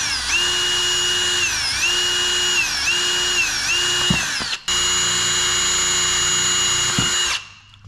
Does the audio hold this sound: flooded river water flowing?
no